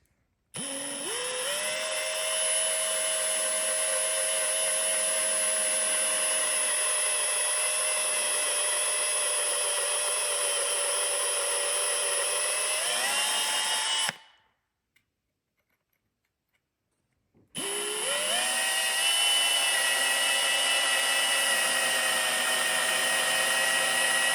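A power drill whines steadily for about fourteen seconds drilling into wood for a closet rod and shelf, stops briefly, then starts up again and runs continuously, loud and close.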